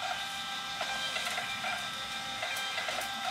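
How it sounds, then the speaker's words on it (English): A printer runs shipping labels in a steady mechanical whir with a faint hiss and soft periodic clicks, heard continuously at moderate volume. "And then I'll just download all of the labels, start printing them."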